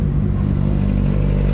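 A 2022 Yamaha N-MAX Connected scooter being ridden, its engine giving a loud, steady low drone with a slight whirring rise, close by and continuous over a short stretch.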